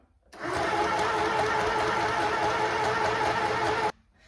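A sewing machine whirs at high speed in one steady, loud burst lasting a few seconds, starting and stopping abruptly.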